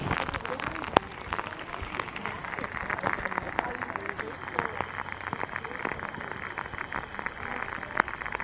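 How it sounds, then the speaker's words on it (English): Pouring rain at an outdoor horse show, steady hiss of rain with scattered drop taps and a louder patter, while people talk nearby. "Pouring rain out."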